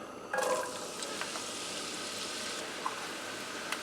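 Green pepper and onion sautéing in about 1.5 tablespoons of hot olive oil, with a steady, even sizzle and a brief louder burst of stirring near the start.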